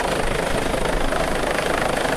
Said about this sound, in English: A Jupiter helicopter from RAF Valley and Anglesey was inbound to carry out a joint winching exercise